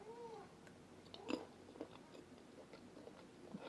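Quiet, close chewing of homemade movie-theater-style popcorn with a few soft crunches over faint room noise, no talking.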